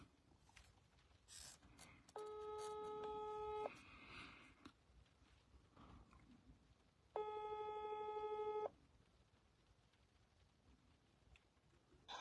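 Outgoing WhatsApp call tone: two clear ringback bursts of about a second and a half each, spaced several seconds apart, fairly faint, with no talk over them.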